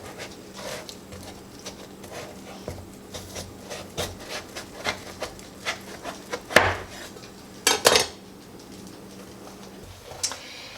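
A knife works through a fresh pumpkin to cut it in half, with repeated close knocks and scrapes against a board, rising to a few sharp cracking bursts as the blade forces through.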